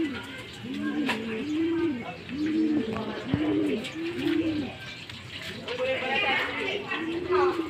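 Pigeons coo in a steady run of soft, rounded calls over faint background noise, with a few sharp clicks and light chatter in the distance.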